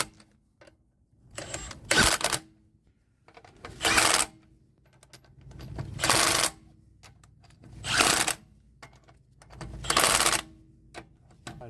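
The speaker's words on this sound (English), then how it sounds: "I probably start all the bolts by hand first before I tighten it with the impact." A pneumatic impact wrench hammers on the wheel lug bolts of a 2010–2015 third-generation Toyota Prius, five loud, close rattling bursts about two seconds apart, with near silence between them.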